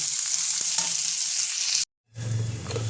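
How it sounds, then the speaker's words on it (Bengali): Chopped onions frying in hot oil with whole cumin seeds for a Bengali potato-prawn dish, a steady close broadband sizzle that cuts out abruptly for a moment and then resumes with a lower, heavier frying hiss. "পেঁয়াজটা আমি হালকা লাল করে ভেজে নেব।"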